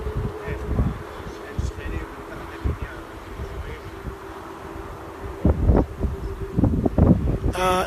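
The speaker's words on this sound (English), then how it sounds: "That light buzzing noise is the Israeli drone that's flying over." An Israeli military drone flying overhead near Gaza gives a light, steady buzz that hums under wind noise and rustling, while scattered knocks and a few voices come and go nearby.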